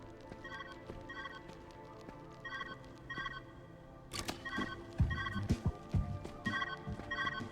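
Telephone ringing in the puzzle video game Viewfinder, a repeated electronic ring in short evenly spaced bursts over a steady ambient game hum, with louder thumps and clatter joining partway through.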